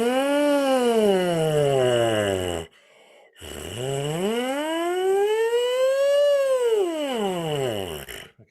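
A brass player buzzes into the lips alone, making siren-like glides: one long pitch sweep that rises and falls, a brief pause, then a second arching sweep up and back down, close and fairly loud.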